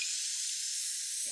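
Corn roasting over an open fire gives a steady, soft, airy sizzle and hiss that runs unbroken and fairly faint, with a slight low rustle near the end.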